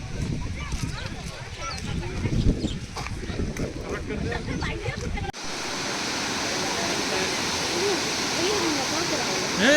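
Loud, steady rush of water roaring continuously at a dam, with voices talking over it in the first half before the torrent fills the sound alone.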